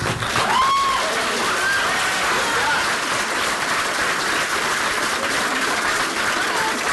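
Audience applause fills the room, a dense steady patter of clapping that holds evenly throughout, no one speaking.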